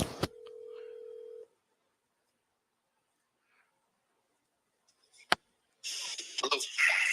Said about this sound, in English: we're gonna call him just from my phone